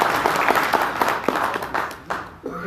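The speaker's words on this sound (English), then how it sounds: "I want to give applause to Karen" An audience applauds for Karen's birthday at a January 2020 UVARC club meeting, a short burst of clapping from a small room crowd that thins out toward the end.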